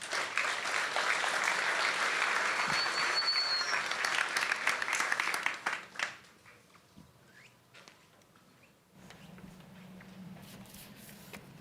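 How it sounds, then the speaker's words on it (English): Warm, full audience applause at the Newlab Pilot Showcase 2024 fills the hall for about six seconds, then tapers into a few scattered claps and quiet room noise. "Please give a warm round of applause as we welcome our first mobility demo to the"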